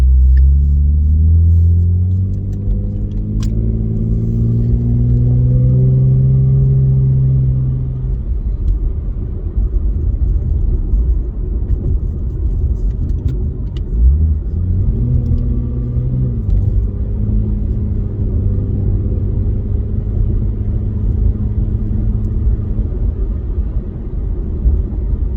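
Deep, steady exhaust rumble from a 2016 Ford Mustang V6 with a Beluga axle-back exhaust, heard in the cabin while cruising, engine pitch rising and falling through gear changes, loud and close, no talking.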